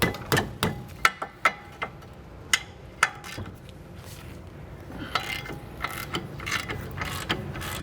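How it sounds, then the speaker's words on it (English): An 18mm socket on a long breaker bar works a tight caliper carrier bracket bolt on a 2002-2005 Mk4 VW Golf GTI, giving a run of loud, close ratcheting clicks and metallic clunks, then scraping and rattling. "I'm use an 18mm socket on a big breaker bar."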